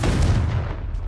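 A Confringo fire blast spell cast in Hogwarts Legacy lands as a loud, booming explosive burst with a heavy low rumble that fills the whole moment and slowly trails off, with no talking over it.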